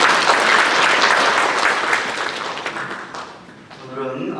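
A congregation applauds to welcome newcomers during a Korean church service, a loud, dense wash of clapping that slowly fades over several seconds before a voice begins speaking near the end.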